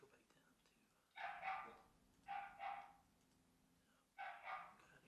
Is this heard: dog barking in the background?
yes